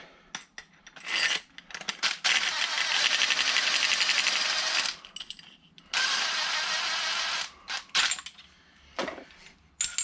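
The screw of a Shankly tubular coil spring compressor being run back, likely with a power tool, in several loud close whirring bursts separated by short pauses and small clicks.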